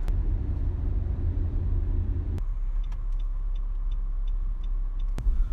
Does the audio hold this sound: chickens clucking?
no